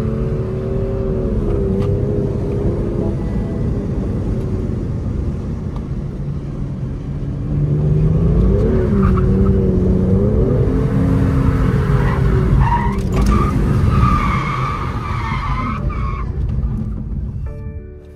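A car loses control with loud engine roar and sustained tire noise, skidding through a long, steady rush of revving and squealing that swells midway and fades out at the end, with no voices over it.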